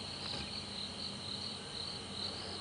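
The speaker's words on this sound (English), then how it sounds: "Loads of crickets, loads of insects." Dense chorus of crickets and other insects trilling steadily through the night in the African bush at a game reserve, a continuous high shimmering drone at moderate level with no talk.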